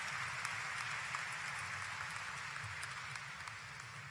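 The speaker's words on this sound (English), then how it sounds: "Ladies and gentlemen, please give another round of applause for our commencement speaker, Congresswoman Lucy McBath." A large crowd at the 2019 Virginia State University commencement applauds the commencement speaker, steady distant clapping with a broad outdoor wash that holds faint and even throughout.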